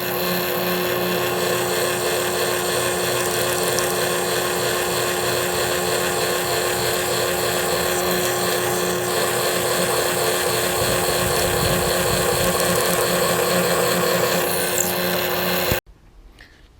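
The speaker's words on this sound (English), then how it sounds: "I'm going to go ahead and use this drill press and punch it through." A drill press bores bolt holes for a homemade catfishing rod rack, a loud, continuous whirring grind that runs steadily for about sixteen seconds, then cuts off abruptly.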